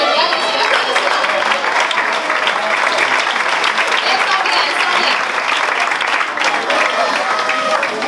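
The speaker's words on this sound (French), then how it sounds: "Madame Martineau, et Monsieur, on l'applaudit," Audience at a community gala breaks into loud, sustained applause, dense clapping that fills the room evenly from start to finish.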